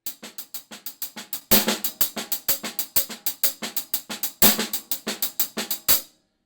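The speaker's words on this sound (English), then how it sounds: "Here's the ghost notes and the backbeat." A Purdie shuffle on drums played alone: steady triplet hi-hat or snare taps with soft ghost notes, punctuated by louder backbeat hits, close and crisp.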